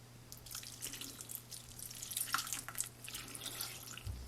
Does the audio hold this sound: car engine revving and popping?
no